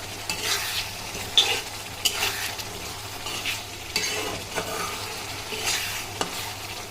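Shrimp sizzle loudly in spices in a pan while being stirred and turned, with kochu stems to follow, giving a continuous close frying hiss broken by irregular scraping stirs.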